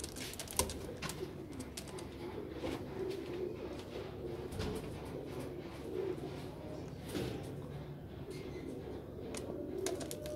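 A pair of Madrasi Phulsira pigeons coo softly in repeated low phrases. Light clicks and rustling sound in the background, and there is no clear talk.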